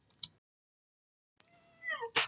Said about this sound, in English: Patty Cat, what are you doing? Are you being naughty